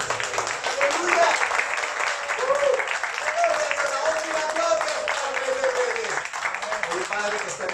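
A church congregation applauds during a worship service, sustained clapping throughout with voices and shouts mixed in over it.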